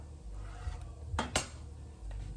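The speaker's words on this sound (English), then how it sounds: "So what I want to do is simply just cut it down the middle" A knife cuts a zucchini in half down the middle on a kitchen board, giving a couple of short, sharp chopping knocks amid quiet room tone.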